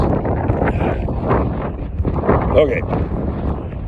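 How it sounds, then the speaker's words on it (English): Gusty wind buffets a microphone outdoors, a steady low rumble with swelling gusts under a person talking throughout. "The wind's blowing me over here."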